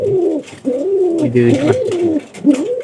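Pigeons coo close by in repeated soft, throaty phrases, one call following another with short pauses.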